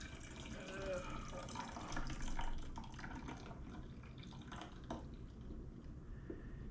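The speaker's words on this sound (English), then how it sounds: "let's put the juice in the bottle" Freshly pressed pear juice from a slow cold-press juicer poured into a half-gallon bottle: a faint continuous liquid trickle and splash, heard faintly beneath a person talking.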